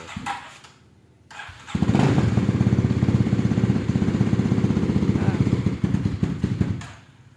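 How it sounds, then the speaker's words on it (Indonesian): Kawasaki KLX 250 supermoto motorcycle fitted with a 2022 KXF 450 bodyset, faint clicks before the engine starts at close range and settles into a loud, steady, rapid idle pulse for about five seconds, then cuts off. "Nah, kita nyalain ya motornya."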